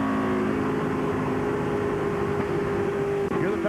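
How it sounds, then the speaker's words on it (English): Race car noise at Phoenix International Raceway during the 2001 Checker Auto Parts 500 as a right front tire goes flat: a steady, loud engine drone with tonal harmonics, a brief dip near the end, no talk. "Hear the tire go flat?"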